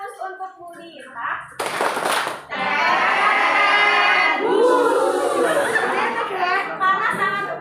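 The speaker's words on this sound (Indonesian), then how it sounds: "Beri tepuk Superman bus untuk Budi ya." An audience at a teachers' community gathering performs a rhythmic 'Superman bus' clap routine, bursts of clapping and whooshing voice effects amid crowd chatter and laughter.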